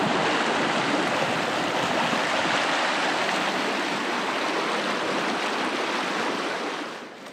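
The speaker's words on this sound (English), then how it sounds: "The river flows through this cool canyon." River water rushing steadily through a canyon in the Australian bush, a dense continuous roar of flowing water that holds constant and close throughout, easing slightly at the very end, with no voices.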